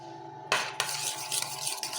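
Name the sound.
mixing potato salad with tahina and salt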